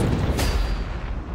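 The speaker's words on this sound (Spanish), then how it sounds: "¡Ahora tres disparos más!" A sharp gunshot cracks out once over a dense, rumbling background during a tense game of guarding $500,000, loud and close, with no talking in this moment.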